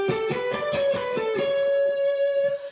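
An electric guitar plays a quick minor pentatonic run of bent, connected notes, then rings out on one sustained note, with a thick, slightly overdriven tone.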